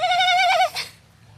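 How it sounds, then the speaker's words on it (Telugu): Birds call in trees around a rural village, a single loud, close harmonic call holding for about half a second before breaking off, followed by a short fainter note and then quiet. "చెట్లు, ఇవి పక్షులు, మేకలు చాలా బాగుంటాయి."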